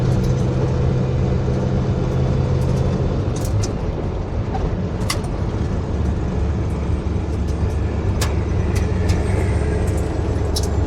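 A car rolls down the road toward a gas station, a steady low engine and road rumble heard from inside the cabin, with a few faint clicks and rattles over the continuous drone.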